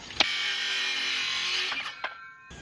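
A power saw cuts through a treated lumber board for a shed wall frame, a steady loud whine running about two seconds with sharp knocks at the start and end, then winding down, with no talk.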